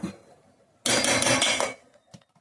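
Cooked lentils being mashed in a pot with a dal masher, a dense burst of scraping, knocking and squelching about a second long, followed by a couple of faint taps.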